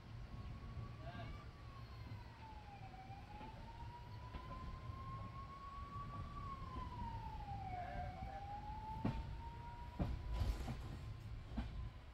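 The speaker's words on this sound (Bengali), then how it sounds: "এখন আমাদের ট্রেন 13150 কাঞ্চনকন্যা এক্সপ্রেস জঙ্গলের মধ্যে দিয়ে ছুটে চলেছে" The 13150 Kanchankanya Express runs through forest, heard from inside as a faint, steady rolling rumble. A long, wavering horn-like tone runs throughout, with a few short knocks near the end.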